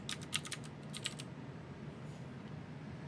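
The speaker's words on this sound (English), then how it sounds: "we'll type in our IP address" Short bursts of quick keystrokes on a computer keyboard, faint and close, entering an IP address into PuTTY, then a soft hum carries on alone.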